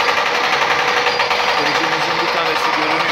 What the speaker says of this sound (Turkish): Kırıcımızın bir tanesi görünüyor.